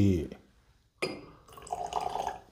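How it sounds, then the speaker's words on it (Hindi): Water is poured into whisky glasses, three of them in turn, a short trickle and then a longer bright pour ringing faintly against the glass, following a brief burst of speech. "बस बहुत कुछ पाँच दस एम करके तीनों में पानी ऐड करते हैं"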